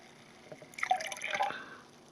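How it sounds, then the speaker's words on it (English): Water is poured into a glass wine carboy of Concord grape wine to top it up to the neck, a short gurgling, trickling fill that swells and then tapers off, close and fairly quiet. "just add some water, just enough to fill it up to the neck"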